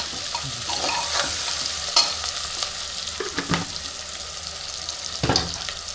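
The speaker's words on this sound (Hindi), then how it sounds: "अब ये सब कुछ भुना रहा है पूरा।" Jackfruit curry ingredients fry in a pan, a steady sizzle broken by spoon scrapes and knocks against the metal as they are stirred, close up and with no talking.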